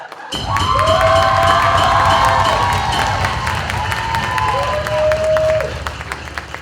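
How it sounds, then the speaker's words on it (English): Student audience at a Latino student association pageant at the University at Buffalo breaks into loud applause and cheering, sustained for several seconds with whoops and shouted voices rising above the clapping. "I don't like how that applause sounded."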